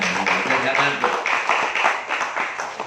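A classroom audience at a school leadership training event claps briefly in a burst of scattered, overlapping hand claps, with voices mixed in.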